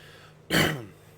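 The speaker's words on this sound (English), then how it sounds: "I gotta clear my throat." A man forcefully clears his throat once in a short, loud burst that fades quickly, heard close to the microphone between radio calls while taxiing a Black Square Bonanza A36TC in a flight simulator.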